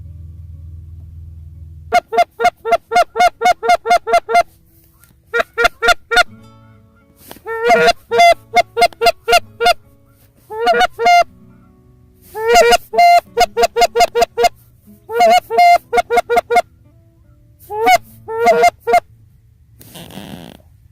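Geese flying over during a late-season waterfowl hunt, honking in repeated rapid bursts of loud, harmonic calls, several flocks overlapping close overhead with short pauses between volleys.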